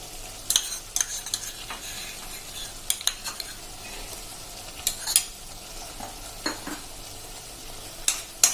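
Macaroni pasta with bottle gourd and vegetables stirred with tomato sauce in a pan, a soft steady sizzle under repeated sharp spoon scrapes and clinks against the metal, no voices.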